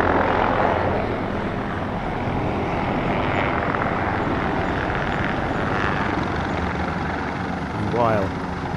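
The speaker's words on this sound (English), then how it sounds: "two MD-530Gs from the Army and two EC-725 Caracals from the Air Force take centre stage." Two Army MD-530G and two Air Force EC-725 Caracal military helicopters at an airshow, producing a loud, continuous rotor and engine roar that swells slightly near the end, with a voice over it.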